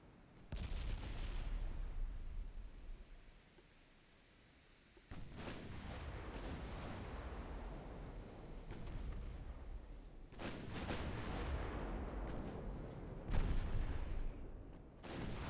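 Heavy naval guns from a warship in Ultimate Admiral: Dreadnoughts, a 1913 French campaign battle, boom in repeated loud broadband blasts with rumbling tails, stretching across the whole stretch with a brief lull early on.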